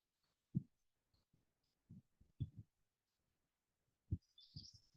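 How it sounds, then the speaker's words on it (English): Birds in a big tree at the San Joaquin Fish Hatchery give faint, scattered chirps and short calls against a quiet outdoor background, with brief gaps of near silence between them. "there's lots of birds chirping and singing in there"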